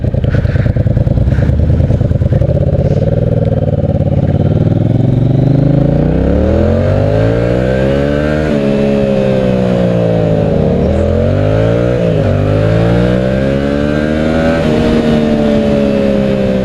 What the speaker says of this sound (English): Oh yeah, this little bike's running just fine. Pulling just as hard as it did.